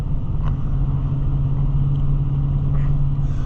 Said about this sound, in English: there's a car coming from that way